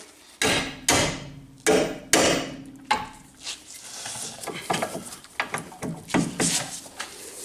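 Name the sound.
hammer tapping ball joint bolts loose from underneath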